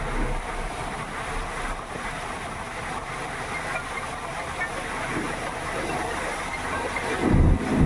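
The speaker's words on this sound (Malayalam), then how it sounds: "അടിപൊളി വെള്ളച്ചാട്ടം" A small waterfall pours as a continuous, fairly loud wash of water noise that holds steady throughout. A low rumble or handling bump comes near the end.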